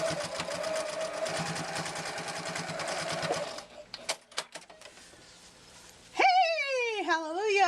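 A sewing machine stitches a wallet in a fast, steady mechanical run for several seconds, then stops and the fabric is shifted about with a few clunks, before a brief squeaky sound follows.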